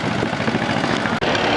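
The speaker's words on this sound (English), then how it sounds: "1954 John Deere number 40." A 1954 John Deere number 40 antique tractor in a small-town parade, its engine idling and chugging with a steady low throb close by, one brief dropout partway through.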